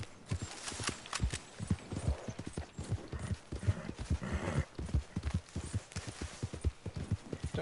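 Horse hooves clip-clopping in the Red Dead Redemption 2 video game: a steady, fairly close rhythmic walking gait of hoofbeats that continues throughout.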